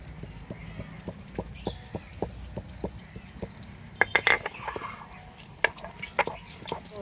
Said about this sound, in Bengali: এস্টা জৈত্রী সাজিরা গোলমরি এটা আমি এবার গুঁড়ো করে নেব